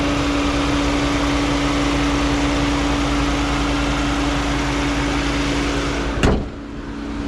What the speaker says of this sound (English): That is the engine.